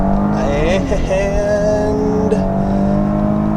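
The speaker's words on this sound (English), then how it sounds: "Little tire squeal. Maybe we could have done it" A twin-turbo Maserati Ghibli accelerates hard from a standstill, its loud engine note rising steadily through a gear change, heard up close from inside the car.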